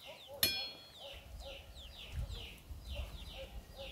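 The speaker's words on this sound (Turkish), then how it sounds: "O civciv niye o kadar çok çığırıyor ya?" A chick chirps loudly and repeatedly in high, rapid peeps near a hen, with a sharp knock early on and faint talk in the background.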